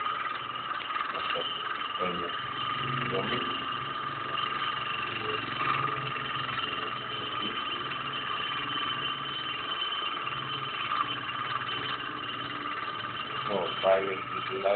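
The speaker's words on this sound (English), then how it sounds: "Now the engine is running" A Newman motor generator with a single coil runs with a steady electrical whine and buzzing tones, holding an even level throughout, with a muffled voice faintly underneath.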